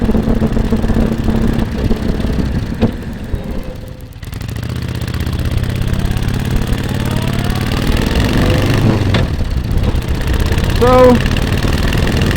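A Harley motorcycle engine idles steadily close by, a continuous low rumble with a few brief shifts, while someone talks over it.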